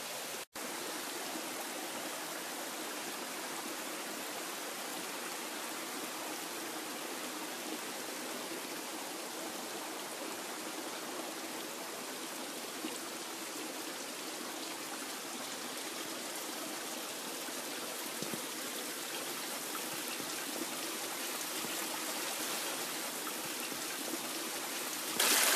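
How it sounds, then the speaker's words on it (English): Spring water runs steadily in a small stream around a mound in southwest England, a constant soft rushing and trickling that stays even and fairly faint throughout, with no voices. "The source of the spring is there, and the water runs to either side of this mound"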